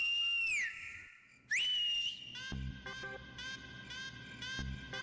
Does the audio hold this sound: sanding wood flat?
no